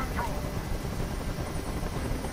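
Helicopter hovering in the video game Detroit: Become Human, a loud, continuous rotor drone with steady thumping filling the scene, while voices talk over it.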